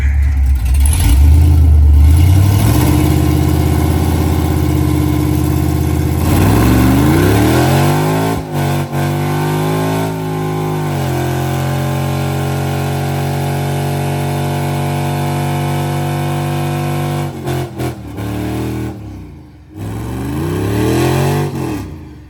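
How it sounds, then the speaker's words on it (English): A truck does a burnout, its engine revving hard and loud for over twenty seconds, with pitch sweeping up and down through several surges, brief dips near the middle and end, then a final rising roar. "That truck does a good burnout."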